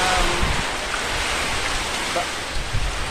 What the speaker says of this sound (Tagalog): napakalakas po ng ulan. Napakalakas din po ng hangin.